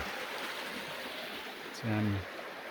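A mountain stream runs steadily at about 1,000 metres in alpine high country, a broad even rush of flowing water throughout, briefly overlaid by a short low hum near the end.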